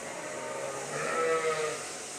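Sheep bleat from a walk-through alley pen used to move ewes between pens, a single drawn-out bleat swelling in the middle over a steady farm-shed background, with no one talking.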